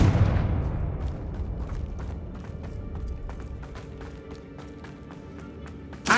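A Confringo blasting spell in the Hogwarts Legacy video game sets off a loud booming explosion, followed by a long rumbling decay with scattered crackling debris and sharp pops, plus a brief burst at the end.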